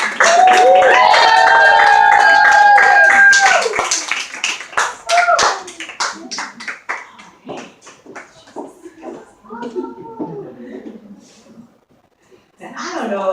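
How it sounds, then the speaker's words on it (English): An audience at a live event in Dublin breaks into loud, dense applause with scattered cheers, which gradually thins out into lighter clapping as voices speak over it. "Another round of applause for Julie."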